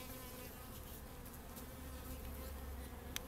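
Honeybees buzz steadily throughout a beehive inspection, a dense continuous hum close by with a faint brief tick near the end and no talking.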